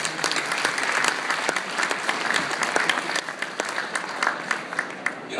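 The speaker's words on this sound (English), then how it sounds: "let's give them a great round of applause" At a New Year's celebration, an audience gives a round of applause after a speech, many hands clapping in a sustained, moderately loud patter with individual claps standing out.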